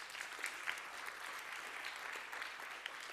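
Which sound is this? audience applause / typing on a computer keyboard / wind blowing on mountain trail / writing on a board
audience applause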